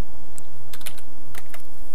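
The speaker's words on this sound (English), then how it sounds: "You can do that by typing PR here in the middle column." Typing on a computer keyboard while entering logic derivation premises: a few scattered, crisp key clicks in two short bursts, close and clear, with no talking.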